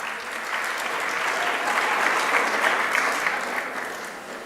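An audience at a Caribbean tourism media awards ceremony applauds the judges, a dense, even wash of clapping that swells and tapers over a few seconds.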